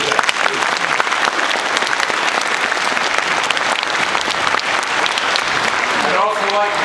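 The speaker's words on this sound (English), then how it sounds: "Let's give Master Chief Goulas a round of applause." Sustained audience applause fills a Holland Club induction ceremony at a submarine base in Groton, dense steady clapping from a crowd, with a voice emerging near the end.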